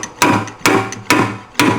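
Four sharp, evenly spaced hammer taps on sheet metal, knocking down a dent on a 1995 Harley-Davidson FXD, each strike loud and close with a brief ringing decay.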